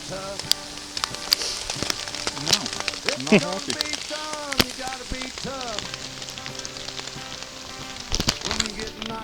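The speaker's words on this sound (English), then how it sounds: "We made it about a half hour until another storm came in with more hail." Hail and rain pelting down in the High Uintas backcountry, a dense steady patter with sharp close impacts, heard under singing and a brief spoken remark.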